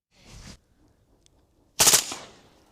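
Two bursts of M4A1 rifle fire in automatic mode, a short rapid volley followed by a pause and then a louder, sharper burst that rings off briefly.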